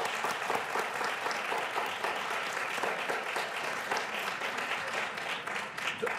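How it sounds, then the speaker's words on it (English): An audience applauds steadily, a dense patter of many hands clapping at an even level throughout, with no voices standing out. "That alone is worth an applause round,"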